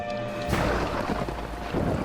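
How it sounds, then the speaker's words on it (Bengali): A loud thunder clap used as a sound effect in an audio drama bursts in after a soft musical tone, then rolls on as a heavy, rumbling crash with no voices. "বাইরে প্রচন্ড জোরে একটা বাজ পড়ল।"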